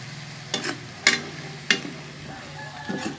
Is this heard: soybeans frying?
yes